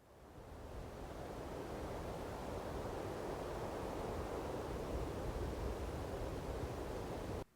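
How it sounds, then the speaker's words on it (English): Light wind with wispy gusts in a harbour atmosphere, a steady broadband whoosh that fades in and holds at an even, soft level before cutting off abruptly. "Light winds with wispy gusts."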